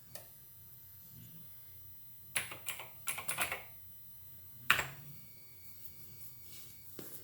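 Typing on a computer keyboard in short, close bursts of key clicks separated by quiet pauses, soft and alone in a quiet room.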